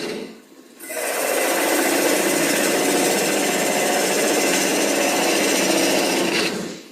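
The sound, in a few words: wood lathe turning off a bowl tenon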